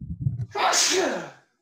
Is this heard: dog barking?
no